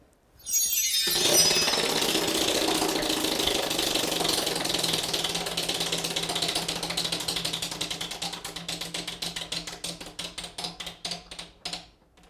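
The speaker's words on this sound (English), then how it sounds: "Go ahead and spin the wheel." A game show prize wheel spins with a dense, loud ratcheting clatter that starts abruptly, then slows into distinct, spaced clicks as it winds down.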